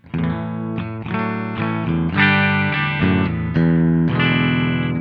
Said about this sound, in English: So here is the clean guitar.